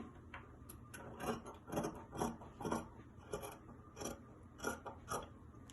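Scissors cut fabric for a dress bodice in quiet, close snipping strokes, a rhythmic rasping series of crisp snips with no talk.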